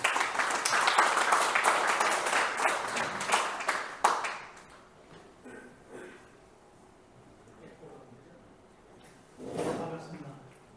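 Audience applause at a forum session on North Korean science, technology and industry, a dense round of clapping for about four seconds that then fades, with speech following.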